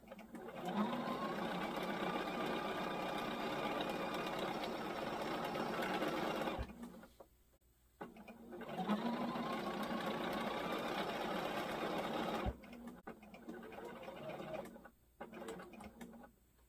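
A sewing machine stitches a quilted wall hanging in two long continuous runs of steady mechanical whirring, each ending in a short pause, followed by a brief final burst.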